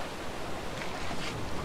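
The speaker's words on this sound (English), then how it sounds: "Waterfall." Waterfall in the video game A Way Out, a steady broadband rush of falling water, loud and constant with no voices over it.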